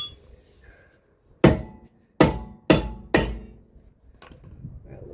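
Four sharp metallic hammer blows ring out at uneven intervals while a brake rotor is knocked off the rear of a 1987 Corvette C4, each strike close and loud with a short decaying ring, and quiet between strikes.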